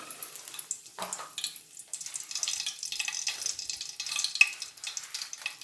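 Hot oil crackles and sizzles steadily as curry leaves and chillies are tempered for fish fry, a hissy frying sound with a few stirring scrapes near the start.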